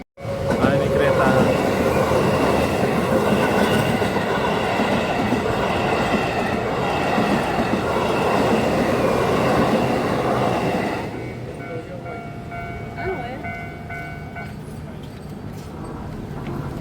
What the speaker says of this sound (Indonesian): Nah, ini kereta.